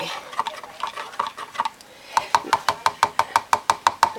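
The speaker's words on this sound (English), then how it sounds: "I'm going to stir this up because it's really getting ready." Spoon scraping and stirring homemade cuticle butter with vitamin E in a container, starting as soft irregular scraping, then turning into a steady run of about fifteen sharp, rhythmic clinks close up with no talking.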